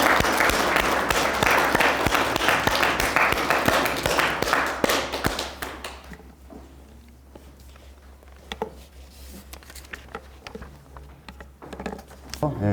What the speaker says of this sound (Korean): 이럴 때 박수가 필요합니다.